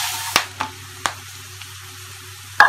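Puffed rice tipped into a hot pan of red chili powder and spices sizzles faintly, with a few sharp clinks and scrapes of a spoon against the pan over a low, steady hiss.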